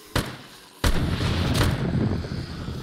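A gun fires in the zombie survival game 7 Days to Die (Alpha 20, Undead Legacy mod) during a horde night: three loud, sharp shots, the last two booming and echoing into a dense, rumbling tail.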